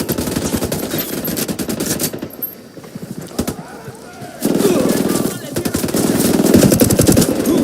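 Gunfire from the video game Ghost Recon Wildlands rattles in loud, dense, rapid bursts of automatic fire, with a brief lull midway before the shooting surges again.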